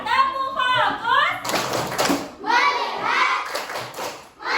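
A group of schoolchildren in a classroom chant together and clap a rhythmic 'tepuk fokus' routine, bursts of sharp hand claps alternating with loud sung group voices, close and energetic.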